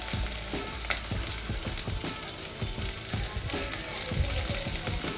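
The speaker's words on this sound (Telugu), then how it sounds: "ఇవి ఆనియన్స్ అనేది కొంచెం గోల్డెన్ బ్రౌన్ కలర్ వచ్చేదాకా ఫ్రై చేసుకోవాలి." Finely chopped onions fry in hot oil in a pan at home, making a steady dense sizzle with scattered scraping stirs and clinks throughout, close and loud with no voice.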